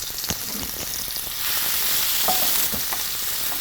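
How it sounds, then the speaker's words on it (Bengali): Finely chopped onion fries in oil with a continuous close sizzle that swells partway through, broken by occasional light stirring clicks. "পেঁয়াজটাকে আমরা একটু ভেজে নিচ্ছি"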